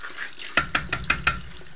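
A pin brush, just cleaned with shower gel, is knocked against a hard surface five times in a quick, even rhythm. The taps are sharp and close, over a soft, steady background hiss.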